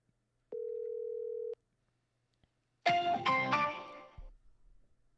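An outgoing telephone call gives one steady, faint ringback tone that lasts about a second. After a pause, a short, louder burst of another sound follows.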